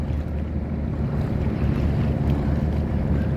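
The large passenger launch Sonar Tori, bound for Dhaka, sails past with a deep, steady engine rumble under rushing wind and water wash, constant and close, with no speech.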